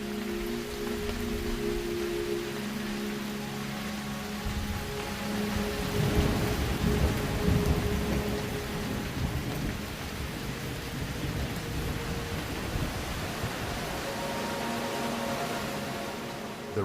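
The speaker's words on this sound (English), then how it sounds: "This is the summer rainy season in Ethiopia." Heavy rain pours in the Ethiopian highlands during the summer rainy season, a dense constant hiss with low thunder rumbling through the middle, loud and without speech.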